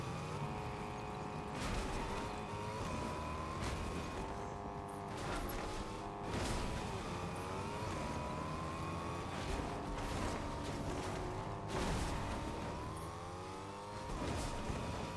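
A car speeds along in Fortnite Zero Build, its engine droning steadily with revving swells and a few sharp impacts or crash bursts, loud and continuous throughout.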